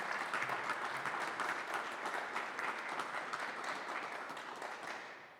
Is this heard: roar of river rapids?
no